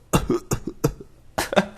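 A voice imitates coughing, a few short, sharp hacking bursts in quick succession, close and fairly quiet.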